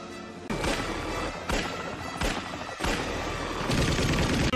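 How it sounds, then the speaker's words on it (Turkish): Gunfire raining down from a helicopter in an action film: a series of loud, heavy bursts and impacts roughly every second over a continuous rumbling roar, with no talk. "Bize ateş ediyor."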